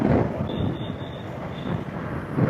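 Metro train in Agra passing close by, a steady broadband rumble of wheels and carriages with a faint high whine throughout, loud and continuous with no talk.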